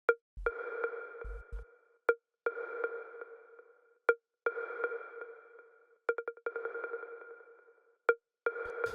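An automated synth loop: repeated hollow, sonar-like pings in phrases broken by sharp clicks, with low thumps early on and a light clicking rattle near the end, fairly quiet overall.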